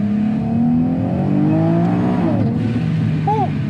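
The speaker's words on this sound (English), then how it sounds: "those are some interesting noises coming from the engine" A supercharged, modified 2019 Nissan 370Z engine revs loudly up close, rising and falling whine over a throaty drone, with a brief squealing chirp near the end.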